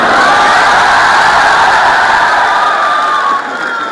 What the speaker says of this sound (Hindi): और जिस तरह से ताली बजी उससे लग रहा है कि पूरी है।